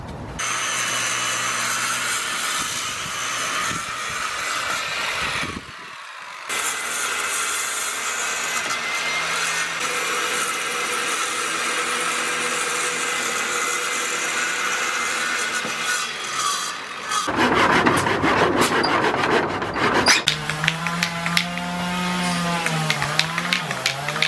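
A power saw grinds through wooden deck supports for long stretches, with a brief pause and a harsher, louder cutting section near the end.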